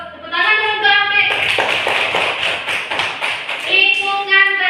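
A group of schoolchildren claps for a classmate in a classroom, a burst of rapid, fairly loud hand claps lasting a few seconds, with a voice speaking before and after.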